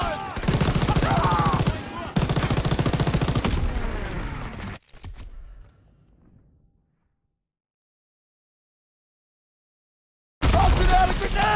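Dense gunfire rattles in a World War II battle in Call of Duty WW2, loud rapid bursts with booms and shouting voices, fading to silence before the firing resumes abruptly.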